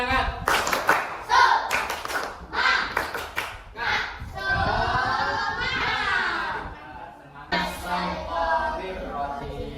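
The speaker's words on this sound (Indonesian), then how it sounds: "Terlebih dahulu, tepuk semangat." Schoolchildren in a primary classroom doing a rhythmic patterned clap together, bursts of clapping alternating with their chanted voices, close and lively.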